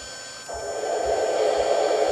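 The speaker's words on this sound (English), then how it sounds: "the buzzing sound that you heard was the smoke unit. It was that fan." Steady, faint electric buzzing from the smoke unit fan of an MTH Railking New York Central L-3 Mohawk model locomotive, starting abruptly and droning evenly, with no voices.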